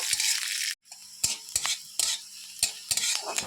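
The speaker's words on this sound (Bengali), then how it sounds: "এটা ভালোভাবে ভেজে নেব" Panch phoron and dry red chilies frying in a pan for kumro data shaak chorchori, with a steady crackling sizzle broken by sharp, regular scrapes and taps of a spatula stirring the spices, after a brief silent gap.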